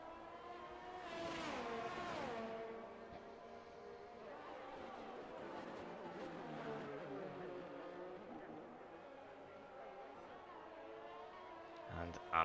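Formula 1 race car engine in the F1 22 racing game, a high-pitched whine that rises and shifts through gears, steady and moderately loud beneath continuous race commentary.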